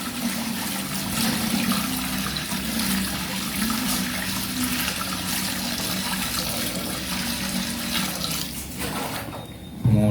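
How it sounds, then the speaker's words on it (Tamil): Water pouring steadily into a cooking pot, about three litres for boiling rice while making an Arabian sweet; a continuous close splashing rush that runs for nearly the whole stretch, then cuts off near the end. "இப்போ பின்ன அரிசி வேகத்துக்கு தனியாக தண்ணி 3 லிட்டர் ஊற்றப்போ 3 லிட்டர் தண்ணி."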